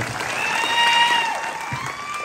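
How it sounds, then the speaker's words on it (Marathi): An audience at a Home Minister village game show claps loudly in a dense, continuous burst, swelling and then easing slightly, with faint crowd voices mixed in. "जोरात टाळ्या वाजवायच्या"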